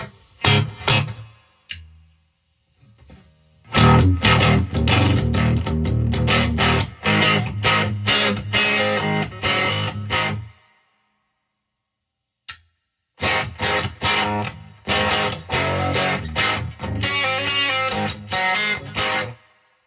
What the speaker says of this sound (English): it's the reverb's kicking now